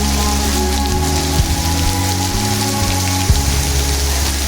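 Steady rain patters densely on a surface, with sustained musical tones humming underneath throughout.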